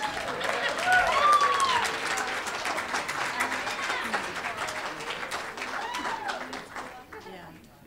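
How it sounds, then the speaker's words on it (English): Audience applause at a 2015 academic awards ceremony, a sustained wash of clapping from a crowd that swells early and slowly fades over several seconds, with faint voices mixed in. "that should get another round of applause"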